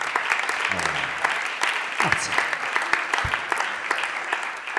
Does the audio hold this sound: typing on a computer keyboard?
no